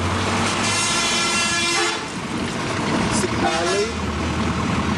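Vehicle horns toot along a busy street in Pondicherry, India, in 1995, with a couple of short honks rising over steady traffic rumble and general street noise.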